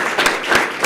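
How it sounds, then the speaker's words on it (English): A brief burst of applause rises at a police swearing-in ceremony, close, loud hand claps pulsing with a few distinct strikes over a dense crowd clatter. "Let's give him a round of applause"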